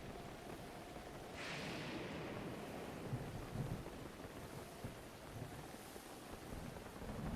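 Steady rain hisses in The Legend of Zelda: Breath of the Wild, a dense, even wash of noise with a low rumble underneath and no voices.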